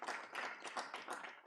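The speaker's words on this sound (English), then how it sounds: "Please give them a good hand of applause." An audience at a hybrid seminar applauds, a brief burst of many hands clapping in quick, irregular waves at moderate distance.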